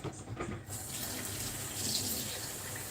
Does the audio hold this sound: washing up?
yes